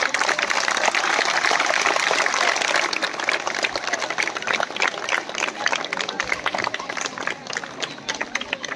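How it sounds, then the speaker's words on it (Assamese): An audience claps steadily and densely at a World Environment Day event, a loud continuous patter that gradually thins toward the end. "সবে হাত চাপৰি এটা মাৰি দিয়া"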